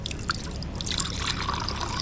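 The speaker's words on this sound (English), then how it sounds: "Might put some mineral water in that swimming pool actually." Mineral water trickles and splashes steadily into a small pool, a close, continuous pouring sound with bright dribbling detail.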